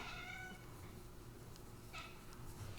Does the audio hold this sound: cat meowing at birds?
yes